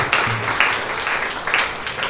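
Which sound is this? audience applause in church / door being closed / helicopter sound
audience applause in church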